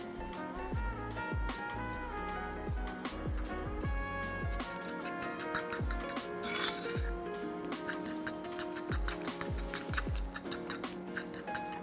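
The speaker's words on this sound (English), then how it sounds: "you just want to give that a bit of a whisk" A whisk clinks rapidly against a bowl of grated cheese sauce for udon noodles, a steady run of close, bright metallic ticks with scattered sharper knocks.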